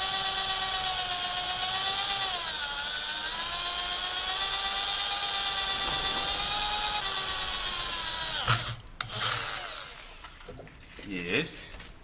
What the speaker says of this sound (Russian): Сверлом на 5 делаем отверстие для троса.